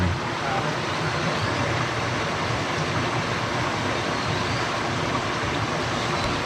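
Broad, steady rush of flowing stream water beside a riverside cave, loud and constant without pause for the whole stretch.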